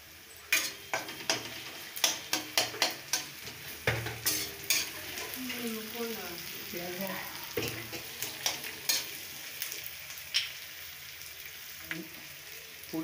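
Onions sizzling in a pan as a spoon stirs them, with repeated scraping strokes in an uneven rhythm over a steady fry, close and moderately loud, with no voices.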